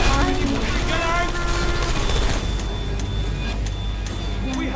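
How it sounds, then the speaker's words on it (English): Gunfire in the video game Portal 2 rattles in rapid bursts over a loud, rumbling mix of game sound, with a few sharp cracks standing out near the end. "I heard gunfire!"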